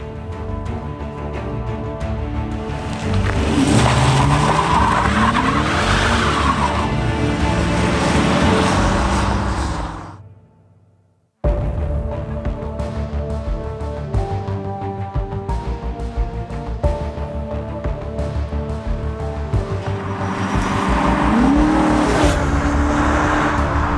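A replica Fast 5 Dodge Charger heist car drives with a loud, continuous engine roar and revving, tire squeals rising above it, a brief dropout to near silence midway, then the engine resumes.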